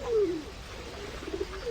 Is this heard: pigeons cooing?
yes